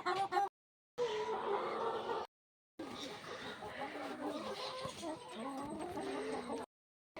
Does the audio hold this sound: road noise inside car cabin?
no